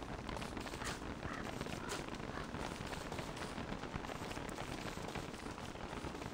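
Steady, dense rain in the video game Don't Starve Pocket Edition, a constant hiss of falling drops with no break, moderately loud and alone without talk.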